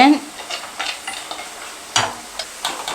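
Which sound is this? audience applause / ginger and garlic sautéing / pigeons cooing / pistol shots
ginger and garlic sautéing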